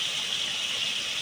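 A little water poured into a ground ginger and green chilli spice paste, a brief steady splashing trickle heard alone.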